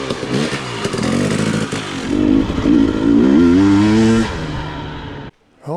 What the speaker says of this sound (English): what is that sound coming from my motorcycle?